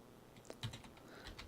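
Quiet keyboard typing, a few soft scattered keystrokes clicking close by with a faint background hum.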